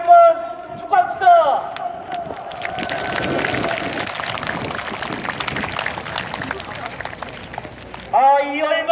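A large crowd at a public employees' union anniversary rally in Gwanghwamun Square roars with cheering and shouting for several seconds, loud and broad, with a speaker's voice on a PA just before and after.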